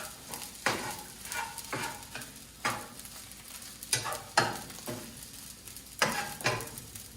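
Pot Noodle egg fried rice stirred in a hot pan: a steady run of scraping strokes, roughly eight at uneven intervals, over a soft continuous sizzle, close by, with no talking.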